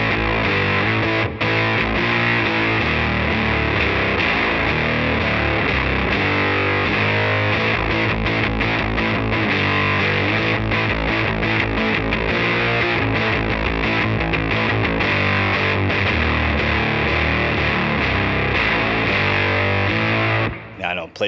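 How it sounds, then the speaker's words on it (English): Mean, heavily distorted baritone electric guitar through a stock Telecaster bridge pickup, playing dense, continuous riffing at loud, steady level for the whole stretch before cutting off abruptly at the end. "the bridge position on a Telecaster, even this stock pickup, nothing special"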